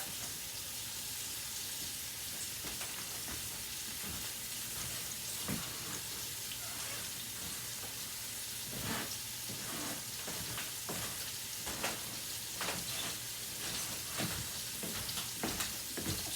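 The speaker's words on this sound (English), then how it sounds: "Now the idea is just to let this sizzle" Continuous soft sizzling of beef browning in a hot pan, with scattered sharper crackles and pops over a steady hiss.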